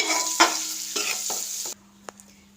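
Eggs frying in oil seasoned with chili powder, turmeric and salt give a steady close sizzle with a few scraping stirs, then the sizzle cuts off abruptly, leaving a low hum and a couple of faint clicks.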